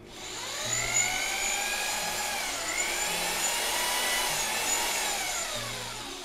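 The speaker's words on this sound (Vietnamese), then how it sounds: "Tích chức năng khoan thường." A Bosch corded drill runs in normal drilling mode, giving a steady whirring motor whine with a slight rise and fall in pitch over six seconds, close and fairly loud, with no talking.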